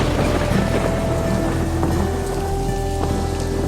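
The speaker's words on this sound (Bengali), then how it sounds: "শুরু হলো মুহুর্মুহু বজ্রপাত আর বৃষ্টি" Rain pours steadily over a low rumble of thunder in a storm scene, the downpour continuous and close for the whole stretch, with no talk over it.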